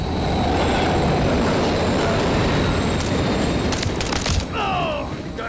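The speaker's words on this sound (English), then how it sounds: "Another train coming." A train rumbles past steadily and loudly in Call of Duty Modern Warfare 3, with a broad roar throughout and some sharp metallic squeals and bangs near the end.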